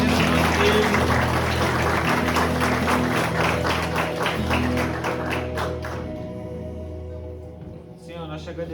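A church congregation claps in praise at the close of a worship service, steady broadband clapping over sustained instrument tones and voices, then thinning out and fading near the end.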